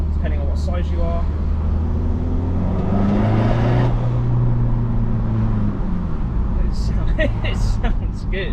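A Peugeot RCZ GT HDi diesel car engine idles and hums steadily with a low rumble, rising slightly for a moment, while people talk nearby throughout.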